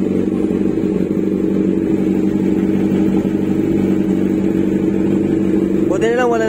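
A Kawasaki Z1000 fitted with an Austin Racing full titanium muffler idles high at a steady, loud, droning pitch, with a brief rising whine near the end.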